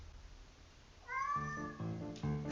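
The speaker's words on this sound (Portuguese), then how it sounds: "E aí tem um gato fazendo barulho aqui." A cat meows loudly and insistently nearby, a drawn-out cry followed by a couple more close meows.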